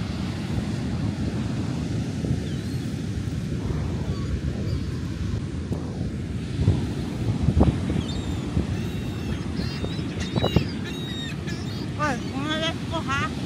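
Strong, gusty wind at a beach roars into the microphone, with surf rumbling underneath and brief voices breaking through.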